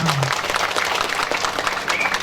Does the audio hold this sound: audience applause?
yes